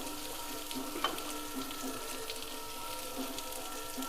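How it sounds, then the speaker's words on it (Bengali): Steady, close sizzling of a young jackfruit filling frying in a hot pan, with a few soft scrapes of stirring and no voices. "এটার মধ্যে দিয়ে নেড়ে চেড়ে আমি একটা পুর বানিয়ে নেবো"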